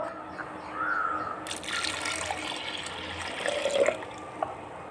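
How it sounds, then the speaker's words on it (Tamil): Water is poured from a tap or vessel onto lentils in a pot during sambar cooking, a continuous splashing and trickling that swells partway through, then settles into liquid sloshing. "மூணாவது தடவை தண்ணி விடணும்"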